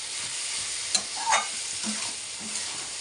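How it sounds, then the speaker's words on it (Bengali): Snake gourd frying and being stirred with turmeric in a pan, a steady close sizzle with a few scraping stirs of the spatula and small clinks, no talk. "হলুদ দিয়ে আবার একটু বেঁধে নেব আর একটু লাল লাল করে বেঁধে নেব"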